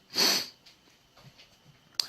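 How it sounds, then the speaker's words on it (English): A sharp sniff up close from someone with a cold, followed by quieter sniffles and faint shuffling, ending with a brief click. "Sorry for the sniffles."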